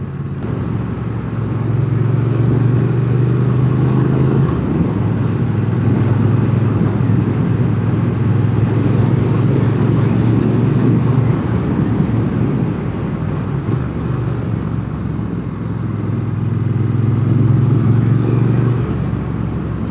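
A Triumph Speed Twin 900 motorcycle rides through English countryside villages, its steady low engine drone rising and easing gently with throttle beneath constant wind rush on the microphone.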